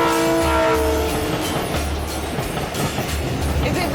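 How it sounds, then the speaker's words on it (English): A freight train with no passengers runs through the desert in Jordan, its engine drone loud and steady with a low rumble, a rhythmic clatter and a brief horn-like tone at the start. "there's something quite exciting about going on a train that doesn't take passengers and kind of sneaking in with the drivers and taking off into the desert"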